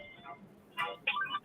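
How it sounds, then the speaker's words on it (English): A mobile phone's ringtone chirps in two short tonal bursts, faint against a quiet room during postgame basketball talk. "phone going off"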